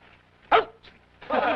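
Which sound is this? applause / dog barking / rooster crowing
dog barking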